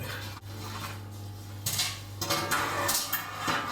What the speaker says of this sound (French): On va mettre le couvercle.